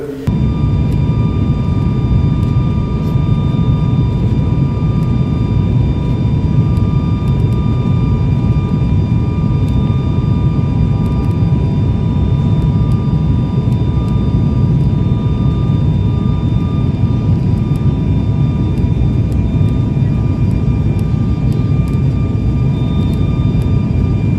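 Loud, constant roar of a jet airliner's engines, a steady droning whoosh that fills the whole stretch without letting up.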